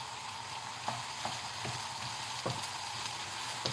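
Chopped white onion frying in sesame oil in a pan, a steady soft sizzle with a few small pops and crackles, heard alone without talk.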